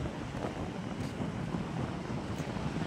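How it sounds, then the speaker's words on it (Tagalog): Calm sea waves wash gently against the shore, a steady broadband rush with soft rolling swells, and wind buffets the microphone throughout. "Ang tahimik ng dagat"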